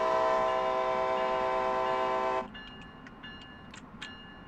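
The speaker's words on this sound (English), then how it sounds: "I'm gonna begin gradually slowing down the train for our next indicated limit" Amtrak passenger train on the Northeast Corridor in the Bronx, New York, in Train Sim World, slowing toward a 45 mph limit: a loud, steady tonal drone of the running train cuts off halfway, leaving quieter rumble with faint brief high clicks and squeals.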